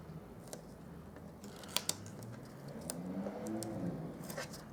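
Scissors snip at paper craft adhesive on a tabletop, a few sharp close clicks and cuts scattered among soft handling rustles, with no talking.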